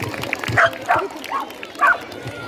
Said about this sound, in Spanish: Y os presento a Rambo, un pastor belga malinois, ¿vale?